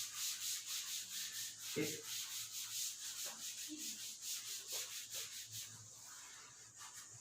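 Eraser rubbing writing off a classroom board: rhythmic back-and-forth scrubbing strokes, about twelve quick regular swipes, close and fairly quiet, with a few faint knocks and a single brief spoken word.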